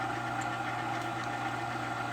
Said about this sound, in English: I'm going to be letting my Kitchenaid do all of the work,